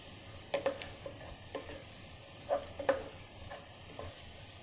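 Garam masala roasts in a pan, with a faint, low sizzle under a few light scrapes and clinks as a spoon stirs it, close and quiet.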